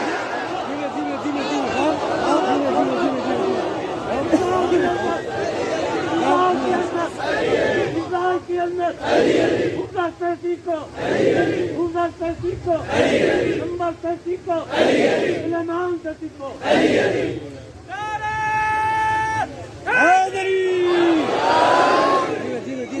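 A crowd at a religious gathering on a highway chants slogans in loud, rhythmic call-and-response bursts, with short pauses between shouts and a voice heard through a loudspeaker near the end.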